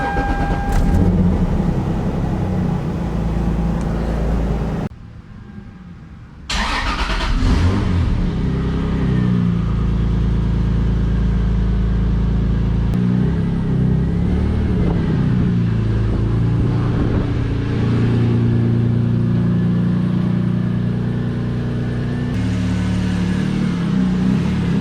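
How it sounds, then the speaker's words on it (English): Cold start of a Toyota Supra with a naturally aspirated engine and five-speed gearbox: a loud, steady low engine drone running throughout, broken by a brief dip around five seconds, then continuing as a close idle with no talk. "now we got to move the Quick Silver Supra, so cold start up on an NA5 speed"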